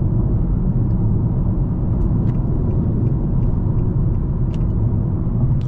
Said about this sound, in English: You do get some tire noise, but overall the cabin, pretty insulated, pretty refined.